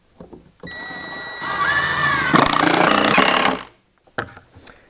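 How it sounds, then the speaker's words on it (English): A power driver runs in a long, loud, continuous whir as screws are driven down into workbench leg assemblies, with short knocks and handling sounds before and a brief clatter after the driver stops. "So that's why I'm just screwing everything down for now without glue."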